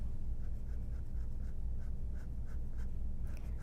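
A pencil scratches across paper while drawing structural curved lines, with a run of short, evenly spaced strokes close up and alone, over a steady low hum.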